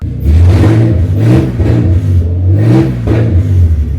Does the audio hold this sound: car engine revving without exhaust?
yes